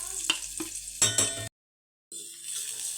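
Onion-garlic masala and chili spice paste frying in oil for kat vada, with sizzling broken by a few stirring knocks, then a brief dead silence before the low frying hiss comes back.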